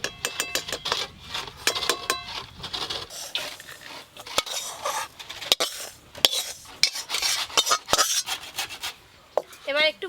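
Ghee-fried rice flour is poured out and stirred in a pan: close, uneven scraping and rubbing with sharp metallic clinks of a utensil against the pan, coming in irregular bursts with short pauses.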